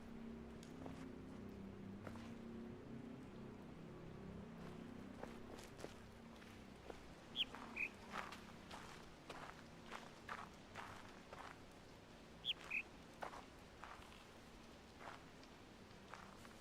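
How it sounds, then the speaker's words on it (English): Birdsong in the video game The Witness: two faint pairs of short, high chirps a few seconds apart, heard over soft, steady footsteps. "That would be the first time that I've heard a bird"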